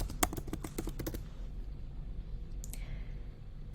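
Quick run of computer keyboard keystrokes, about a dozen sharp clicks in the first second, then quiet room tone with a faint soft click near the end; close and moderately loud, no talking.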